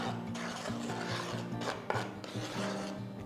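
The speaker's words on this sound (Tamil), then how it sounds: "அவல் பொடி பண்ண அவலை போட்டு ஜஸ்ட் ஒரு வாட்டி நல்லா மிக்ஸ் பண்ணிக்கோங்க" Powdered flattened rice worked into ragi flour by hand in a bowl, a soft, steady rubbing and rasping of dry powder, close up with no talking.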